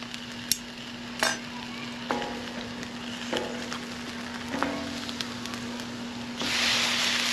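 Serrano and jalapeno peppers roasting in a pan for salsa, giving a soft sizzle broken by several sharp scrapes and knocks of stirring, then a louder hiss toward the end.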